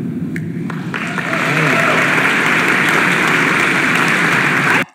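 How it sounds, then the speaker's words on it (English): Crowd applause at a Politicon debate between Ann Coulter and Van Jones: a dense, steady wash of clapping that swells after the first second and holds loud until it cuts off abruptly. "I have no idea why the crowd is clapping."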